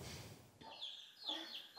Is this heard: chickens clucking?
yes